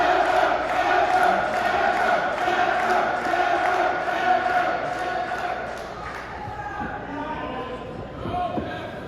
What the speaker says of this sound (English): Here comes the crowd again.